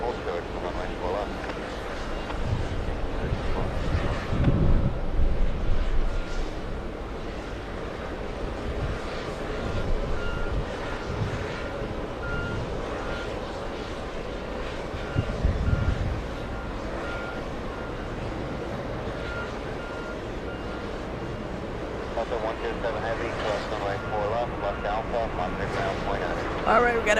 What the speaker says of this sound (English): we got a big 777. This one heading to Tokyo Haneda. ANA, flight number 109. A big 777-300